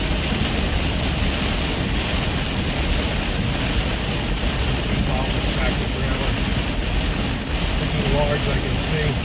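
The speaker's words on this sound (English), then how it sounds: "The rain's just torrential." Torrential rain pours down during a storm on a road trip, making a dense, unbroken roar of hiss and drumming. Voices can be heard faintly underneath.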